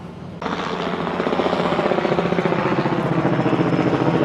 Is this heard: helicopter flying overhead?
yes